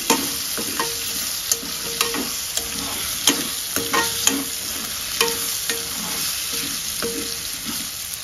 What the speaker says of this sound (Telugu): సో ఆలు అయితే వేగుతాంది.